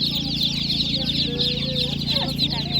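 Laying hens clucking steadily in a crowded poultry market, a dense continuous chorus of close fowl calls over a constant low hum, with occasional voices nearby.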